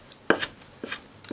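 A knife chops mussels finely on a cutting board for a seafood green onion pancake, sounding as a few quiet, separate taps spaced unevenly over about a second.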